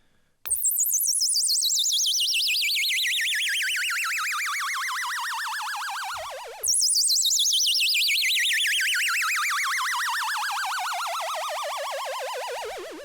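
GForce AXXESS synthesizer playing its Zap patch: two long, loud descending electronic sweeps with a fast warbling wobble, each falling slowly over about six seconds before the second restarts high.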